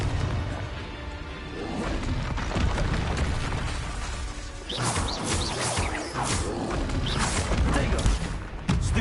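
Confringo blasting-curse explosions from Hogwarts Legacy: a dense, continuous run of loud crashing impacts and bursts over about nine seconds, with sharper blasts clustering in the second half.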